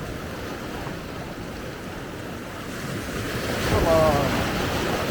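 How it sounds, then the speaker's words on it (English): Ocean waves wash onto a sandy beach at Hergla with a continuous rushing surf. The roar swells louder as a wave comes in near the end, with wind noise across the microphone and a brief spoken word. "the less the waves are coming in"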